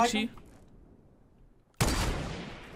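A single loud, sharp sniper rifle shot cracks in Fortnite, with a long decaying tail. A quieter burst comes just before it, while someone speaks quietly in between.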